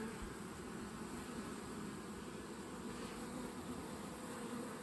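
A dense, steady buzzing of many honey bees from a laying-worker hive hums continuously, close and even, with no voices.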